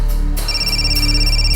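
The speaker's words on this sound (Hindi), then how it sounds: "फोन उठाओ" An electronic phone ringtone trills loudly with a repeating tonal pattern, close and continuous for the whole moment.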